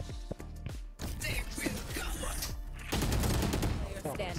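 Gunfire in the video game Valorant: rapid bursts of shots, some cut into fast rattling volleys, amid clattering game sounds and a constant dense mix, with voices talking over it.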